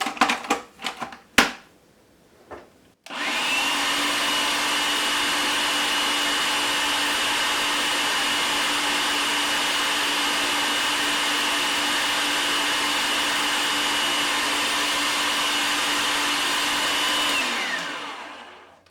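A blender whirs cauliflower hummus with tahini in one loud, steady run of about fifteen seconds that winds down at the end. A few clicks and knocks come first, with no talking.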